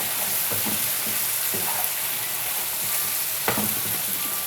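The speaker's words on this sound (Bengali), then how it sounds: "প্রায় ওয়ান স্পুনের মতো হলুদ অ্যাড করব এরপর এটাকে মিক্স করতে হবে খুব ভালো মতো" A spoon stirs turmeric into potatoes with dried loitta fish over a continuous close sizzle, with a few distinct scraping strokes against the pan.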